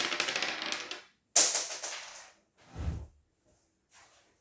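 Dice clatter across a table during a tabletop wargame, heard as several short rattling bursts: a long roll, a sharp hit, then smaller tumbles that settle into silence.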